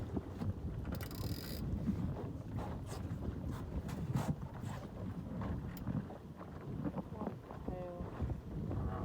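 Wind rushing past a microphone while sailing a new boat, a steady loud buffeting with creaks and knocks of rigging and mechanisms, and brief bursts of gusting noise.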